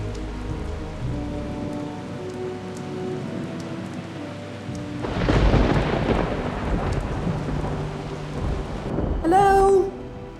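A thunderstorm in World of Warcraft machinima: rain hisses under low rumbles, then a loud thunder crash breaks in midway and swells again near the end, followed by a short high cat-like meow.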